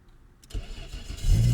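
A straight-piped 750 hp Nissan R32 Skyline GT-R with a sequential gearbox cranks and fires up, starting quiet before the engine catches and settles into a loud, deep rumbling idle.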